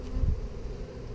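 Honeybees buzz around an open beehive as a plastic frame is swapped for a foundationless one, a low, steady droning hum with a brief louder swell near the start.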